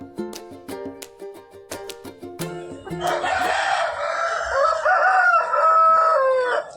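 Chickens and roosters at a weekly village market in East Godavari district, a series of sharp clucks and short calls followed by a long loud rooster crow, close by and without talk.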